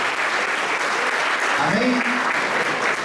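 A church congregation applauds steadily throughout, a dense, sustained wash of clapping with a faint voice rising briefly above it.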